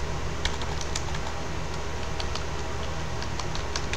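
Someone types on a computer keyboard, writing code for a menu-driven program. A close, continuous run of quick, light key clicks plays over a steady low background hum.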